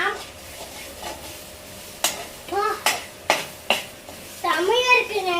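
Masala sautéing and being stirred in a pan, with a few sharp scraping strokes of a spoon against the metal, a soft sizzle underneath, and a voice chattering toward the end.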